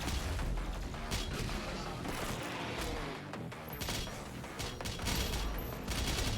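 Rapid, dense gunfire and explosive booms in the video game Doom Eternal, a chaotic barrage of shots and impacts that continues loudly throughout with short lulls.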